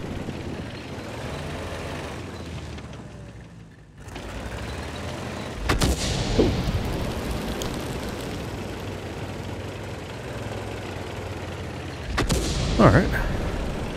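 Artillery fire in a tank video game: two heavy cannon shots spaced several seconds apart, each a sudden loud blast with a ringing tail, over a steady engine rumble, with a voice speaking briefly.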